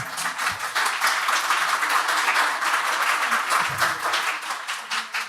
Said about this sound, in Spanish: Bueno, un aplauso pues para César.